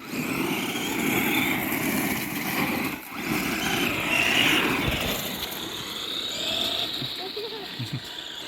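An Arrma RC car fitted with a Hobbywing ESC and TMaxx radio gear whines and buzzes as it runs, its electric motor rising and falling in pitch at moderate distance, with a brief dip midway.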